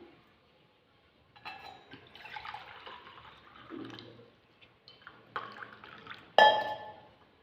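Water poured from a glass onto soaked rice in a pot splashes and trickles in several short bursts separated by pauses, close and fairly clear, ending with a sharper clink.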